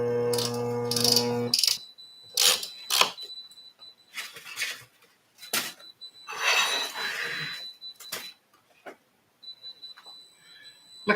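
Coffee grinder working its burrs, short rattling, ratchet-like grinding bursts broken by gaps of quiet, close and fairly loud.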